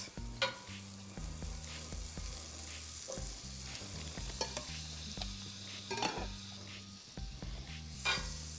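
Soaked bread slices frying as French toast in hot butter on a gas burner, a continuous soft sizzle with low rhythmic knocks and clatters of a pan being handled, nearby and without talk.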